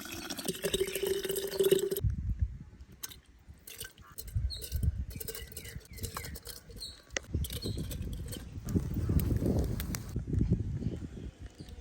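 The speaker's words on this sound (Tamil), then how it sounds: "நம்மளோட மசாலா தண்ணி அப்படியே அந்த குடுவையில் ஊற்றிடுவோம்" Spiced masala water poured into a hollowed watermelon vessel for prawn biryani, an irregular close splashing and trickling patter with some pauses.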